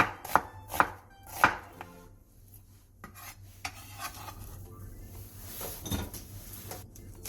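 A knife julienning three onions into 0.5 cm strips on a cutting board: three sharp chopping strikes at the start, then softer, sparser knife taps and light kitchen clatter.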